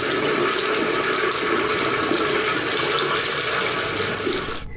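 A faucet runs steadily in a strong, close, continuous rush that barely varies, then cuts off abruptly at the very end.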